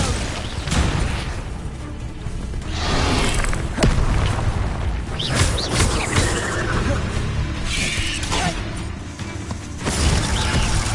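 Spell explosions from a Harry Potter video game crash and boom repeatedly in a loud, dense barrage, with sharp bursts and rumbling impacts overlapping almost continuously.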